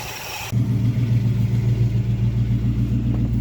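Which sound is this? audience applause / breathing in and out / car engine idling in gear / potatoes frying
car engine idling in gear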